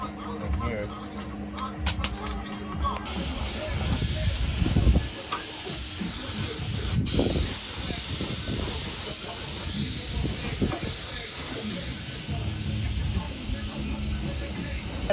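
Spray painting a car part with primer, paint and clear coat, a continuous close hiss of spray, with people talking over it.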